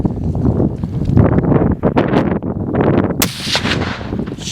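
A rifle fires while hunting chamois on a New Zealand mountainside, a loud sharp blast with a rolling echo amid gusting wind noise, followed by a brief rustle.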